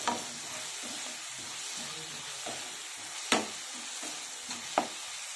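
Onion pieces frying with salt in a pan, a continuous soft sizzle close by, broken by a few sharp utensil taps and scrapes as they are stirred.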